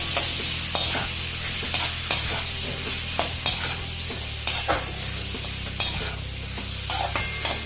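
Mustard seeds and methi powder fry for idli sambar with a constant close sizzle, while a spoon stirs and scrapes the pan in regular sharp strokes, and a low hum runs beneath.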